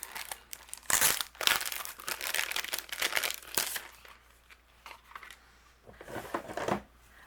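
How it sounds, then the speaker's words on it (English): Paper images being cut with a die-cutting machine for dinosaur-themed card making: irregular crinkling, crunching and rustling bursts as the plates and dies are handled and pressed, fairly close and unaccompanied by speech. "I'm going to die cut out all of my images here."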